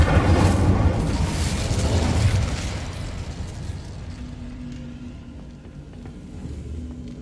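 A fire spell bursts in a PS5 magic adventure game, a loud whooshing blast that swells for a couple of seconds and then fades into a lower rumbling tail.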